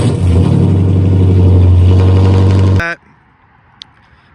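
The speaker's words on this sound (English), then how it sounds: "I did a catalytic converter delete because I just wanted the car louder. And obviously that made the car super loud." A Dodge Charger R/T with its catalytic converter deleted revs loudly up close, a sustained deep engine roar that cuts off abruptly near the end, leaving near silence.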